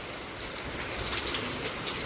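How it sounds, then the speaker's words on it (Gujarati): Steady monsoon rain pours outside a home, a dense, even hiss of drops on surfaces with no break, moderately close. "ચકાચક વરસાદ આવે"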